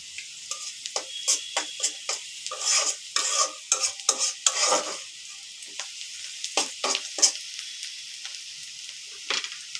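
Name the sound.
cumin seeds sizzling in hot oil for tempering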